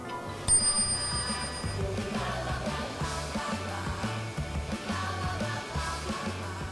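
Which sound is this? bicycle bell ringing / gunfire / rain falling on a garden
bicycle bell ringing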